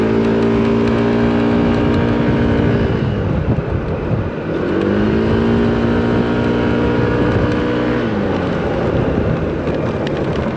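A Honda Forza 125 scooter fitted with a Malossi variator runs at high revs, a loud, continuous buzzing drone that dips briefly, climbs again, then falls and rises once more, with no voices.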